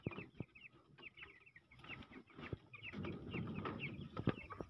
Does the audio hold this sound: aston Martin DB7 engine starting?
no